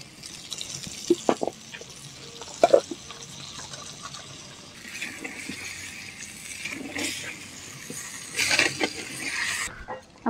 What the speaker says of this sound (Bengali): আমি মশলার বাটিটা ধুয়ে একটু জল দিয়ে দেবো।